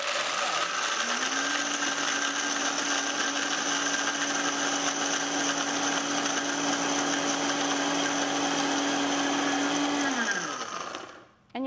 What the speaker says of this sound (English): So first we're gonna turn on the blender.